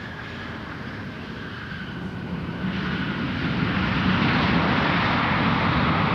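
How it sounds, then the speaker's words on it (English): A Northwest Airlines Airbus A330 touches down on a runway at Minneapolis–Saint Paul, its broad roaring engine and rolling rumble swelling steadily louder from moderate distance, with no talk over it. "The third A330 delivered to Northwest Airlines, now touching down on runway 12 right."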